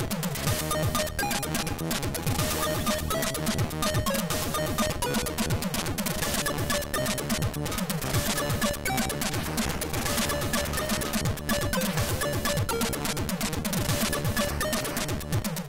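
Homebrew ZX Spectrum game music from a port of Power Blade 2 plays loudly and continuously, a dense, buzzy chiptune with busy driving rhythm and no speech over it.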